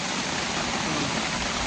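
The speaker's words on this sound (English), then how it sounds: "It's raining. It's raining hard. Real hard." Heavy rain pours down hard and steadily on the Appalachian Trail, a dense, even roar of close rainfall with no other sounds standing out.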